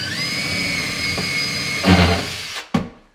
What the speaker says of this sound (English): Pre-drill my hole all the way through.